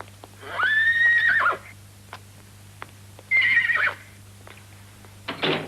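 Two loud, close horse whinnies, each around a second long, with a quieter snort or call near the end over a steady low hum; no talking.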